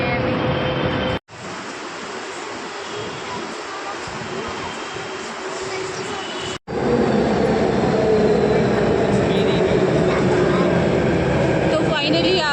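A Delhi metro train roars in at a station, a loud rushing rumble broken by brief cuts, with people talking in Hindi over the noise.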